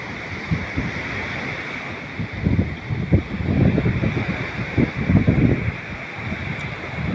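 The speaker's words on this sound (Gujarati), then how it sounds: "તો આપણે આવી ગયા છે દરિયામાં નીચે" Sea waves roll in at the seashore in rainy monsoon weather, a continuous rushing surf that swells in bursts, mixed with gusty wind noise on the microphone and no talk.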